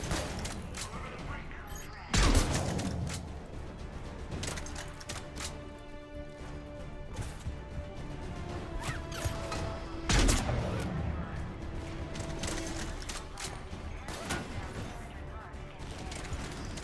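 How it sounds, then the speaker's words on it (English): Gunfire crackles through a Mass Effect 3 battle, with two sharp loud bursts standing out above a steady background of weapon fire and mechanical noise. "Who's shooting?"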